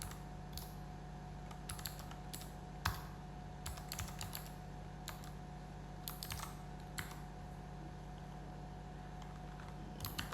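Steady tapping of keys as code is typed on a computer keyboard, quick irregular clicks with occasional louder strokes over a faint background hum, close and quiet.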